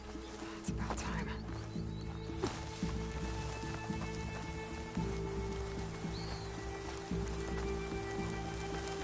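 Steady rain in the video game Horizon Forbidden West patters across surfaces with scattered drops and clicks, layered over a constant electronic hum and faint tonal background.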